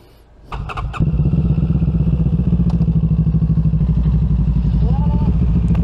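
A motorcycle engine starts at a campsite after a few clunks and a short crank, then runs at a loud, steady, throbbing idle close by, with people talking briefly over it.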